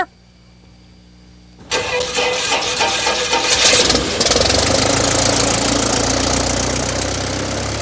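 A light airplane engine cranks over and catches after a quiet pause, then settles into a loud, steady run close by, with no voices.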